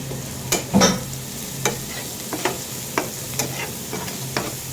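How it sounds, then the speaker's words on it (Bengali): Onion fries with eggplant in a pan, a continuous crackling sizzle broken by regular sharp scrapes and taps as a spatula stirs and mixes, close and fairly loud. "এভাবে পেঁয়াজটা ভেজে দেবো এই বেগুনের সাথে মিশাইয়ে দেন"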